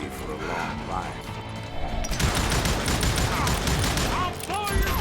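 Dense bursts of gunfire from the Call of Juarez Gunslinger video game crackle in a rapid fusillade after a quieter opening, with a voice talking over part of it.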